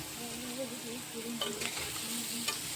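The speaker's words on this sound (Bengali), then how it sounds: "খুন্তির সাহায্যে ভালো করে নেড়ে চেড়ে সবজিগুলোকে এইভাবেই কিন্তু ভেজে নিতে হবে" Mixed vegetables stir-fried in a pan for a sandwich filling give a continuous close sizzle, with a spatula scraping and tapping through it and a couple of sharper clinks near the end.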